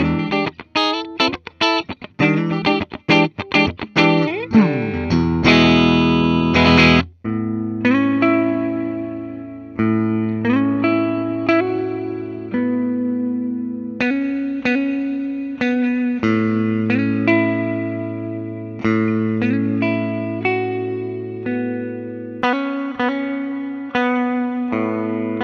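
A clean electric guitar, an Epiphone Viper on both pickups, plays a sequence of chords and single notes, starting with quick strums and then settling into ringing, sustained tones with a warm, full sound.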